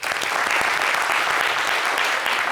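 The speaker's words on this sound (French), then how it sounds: "ça s'applaudit." Loud, sustained applause fills a studio during a talk show about Mandinka music, with dense clapping held at an even level and no voices over it.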